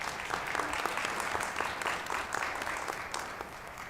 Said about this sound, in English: let's have a round of applause for our moderator and panelists